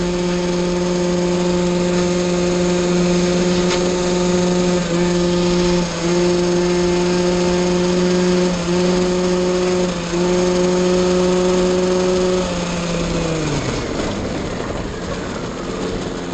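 A GP1 70 Racing scooter engine runs steadily with a strong, high-pitched droning whine, held for about twelve seconds before the revs drop and fade near the end.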